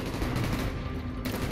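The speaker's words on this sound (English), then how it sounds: "Gunfire's drawing attention." Dense, loud gunfire from Call of Duty: Black Ops, a continuous rattle of shots with a sudden hiss-like burst near the end, no talking.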